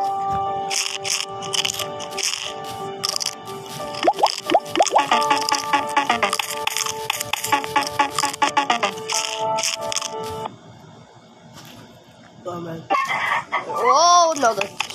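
Video game chickens cluck and crow in rapid, loud bursts over a busy mix of rattling game effects and tones, ending with rising squawks.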